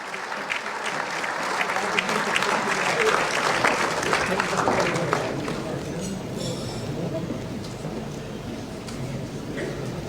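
A round of applause for sponsors at the Ruhuna Engineers' Jubilee Night and AGM: loud crowd clapping for about five seconds, then tapering to scattered, fainter claps and room noise.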